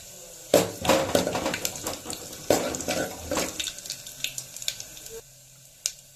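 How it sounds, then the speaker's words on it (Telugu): Coriander seeds and cumin roasting in oil in a pan, a close crackling sizzle with scattered pops and scraping stirs that fade toward a quieter end. "ఫస్ట్ ధనియాలు, జీలకర్ర రెండు కూడా వేయించుకోవాలి"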